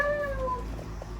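A cat meows clearly and close, one drawn-out tonal call that falls away, with quiet room noise behind it and no talking.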